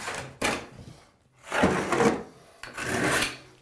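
Scraping and rasping strokes strip old silicone caulk from around a bathroom shower, coming in three drawn-out rubbing bursts with short pauses between, close and fairly loud.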